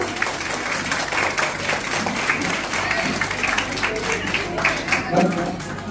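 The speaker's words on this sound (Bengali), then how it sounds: "একটু জোরে করতালি হবে।" Audience applause at a ceremony honouring a humanitarian figure: a steady, sustained wash of many hands clapping that fills the whole stretch, dense and even at moderate volume.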